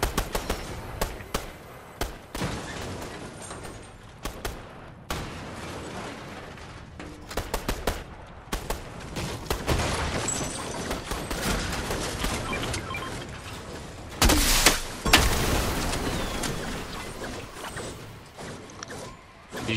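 Rapid bursts of gunfire from the video game Fortnite crackle in dense, uneven volleys with occasional louder single shots, close and continuous over faint background game noise.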